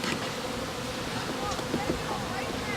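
A dense, continuous buzzing of many honeybees at an open top bar hive during a fall inspection, close, steady and unbroken throughout.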